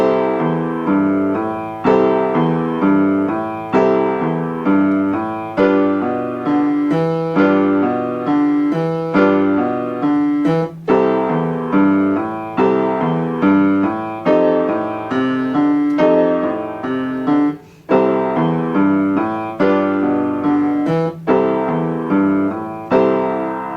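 Piano plays the "When the Saints Go Marching In" chord progression in a steady rolling boogie-woogie pattern, a bouncing left-hand bass under sustained whole-note harmonies, close and clear with no voices.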